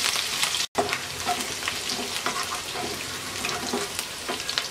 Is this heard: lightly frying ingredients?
yes